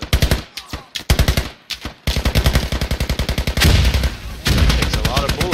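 Automatic gunfire in the military shooter Squad, loud close bursts of rapid rounds in rhythmic strings, briefly pausing then resuming as a long sustained burst with a faint voice beneath.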